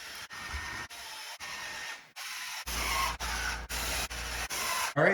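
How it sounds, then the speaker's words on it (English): Drill bores out punched holes in the rails of a 2021 Toyota Corolla hatchback during a body kit install, a series of close, rough grinding bursts separated by short pauses, growing heavier and louder in the second half. "All right, the holes are punched. Let's drill them out now."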